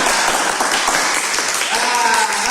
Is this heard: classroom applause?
yes